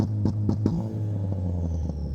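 A modified Jeep engine with a race-car idle holds a steady, loud rumble under boost, punctuated by three sharp ignition-cut pops early on before settling into an even drone.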